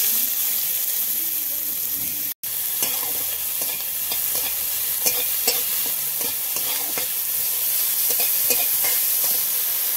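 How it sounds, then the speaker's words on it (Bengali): Fish sizzling steadily in hot oil in a pan with onion, a dense continuous frying hiss with occasional crackles and light stirring clinks, close and fairly loud, broken by one brief dropout. "একটু তেল দিয়ে মাছটা হালকা একটু ভেজে নেব। পেঁয়াজ দিয়ে দেবো"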